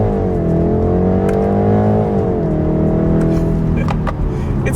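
A 2026 BMW X3 in sport mode accelerating hard, its engine note climbing steadily then dipping at a gear change before rising again, loud and close from inside the cabin with a few clicks.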